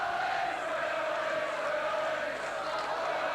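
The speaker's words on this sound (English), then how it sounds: "that little incident there involving Maskill and Aston has brought a roar to the throats of the crowd" A crowd at a 1990 Leeds v Sheffield rugby league match lets out a roar that holds steady and loud across the whole moment, a dense wash of voices with no single words standing out.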